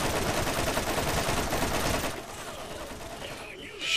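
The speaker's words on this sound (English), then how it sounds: "There's actually two chain guns here." A chain gun in the Borderlands video game fires a dense, continuous burst for about two seconds, then drops to a quieter rattle of scattered gunfire and game noise, with a brief louder swell at the end.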